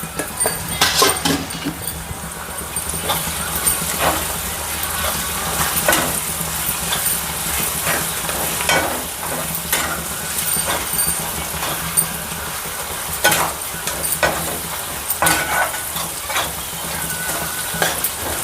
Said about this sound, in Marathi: याला चांगलं परतून घेऊयात